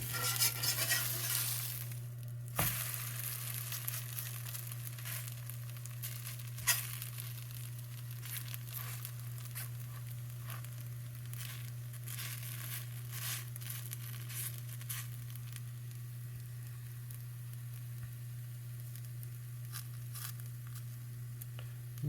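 Thin pancake batter fries and sticks in a pan on an induction range, with a steady soft sizzle, scraping and crinkling sounds, and a constant low hum beneath.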